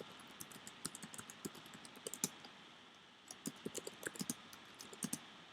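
Someone types on a computer keyboard while entering Swift programming code, producing close, crisp key clicks in irregular bursts with a short pause in the middle and no speech.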